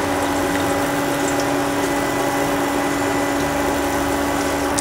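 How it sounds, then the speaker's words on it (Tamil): Water pours steadily and noisily into a pan of rasam, a constant splashing rush that continues without a break. "கொஞ்சம் தண்ணியை சேர்த்துக்கலாம்."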